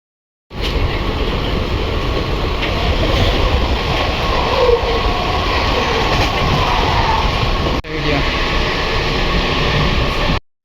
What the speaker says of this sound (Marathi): ही ट्रेन ना वाशी खाडी ब्रिजवरून ना मानखुर्दला जाते